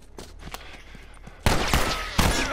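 Gunfire in The Last of Us Remastered, with scattered shots at first and then loud, dense bursts of close fire, no voices.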